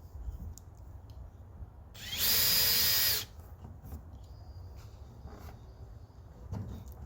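A power drill bores a hole through wood for a shed in a single loud, close whirring burst of about a second, surrounded by quiet workshop ambience.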